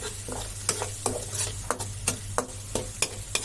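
Turmeric and half a spoon of red chili powder stirred into Maggi noodles in a pan, a spoon scraping in a steady rhythm of sharp clinks over a low, continuous sizzle, close and clear with no voices.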